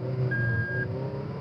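A car fitted with an F1-style paddle-shift transmission pulls away in first gear, its engine a steady low drone with a brief tonal whine, close and continuous throughout.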